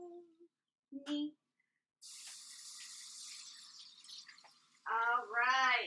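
Water runs from a kitchen tap as soap is rinsed off hands, a hissing spray lasting a few seconds after short knocks, then a voice sings.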